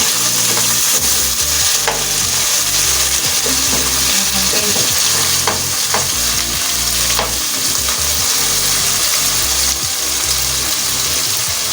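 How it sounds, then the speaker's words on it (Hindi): Soaked mash (urad) dal frying and being stirred in a pan for a restaurant-style dal, a steady loud sizzle with repeated scraping stirs throughout, no talk. "दाल भुनी हुई है हमारी"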